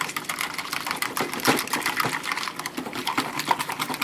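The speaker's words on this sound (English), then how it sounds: "I'm using a fork, so a whisker might work a little better." A fork whisks eggs in a bowl for an eggs Benedict recipe, making a steady run of quick, light clicking and scraping strokes close by.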